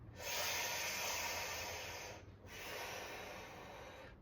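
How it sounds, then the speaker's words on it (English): Deep, forceful breaths drawn in and pushed out through the mouth during a fascial breathing exercise, two long airy whooshes separated by a short pause, close and alone. "we're going to breathe in through the mouth and out the mouth 3 times"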